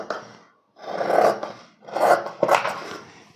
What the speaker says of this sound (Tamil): இப்போ இந்த ரவுண்ட் ஷேப் எப்படி வெட்டுறேன் பாருங்கள்.